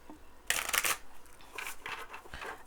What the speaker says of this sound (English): I'm shuffling it like that on purpose because I'm trying to get them to bend the other way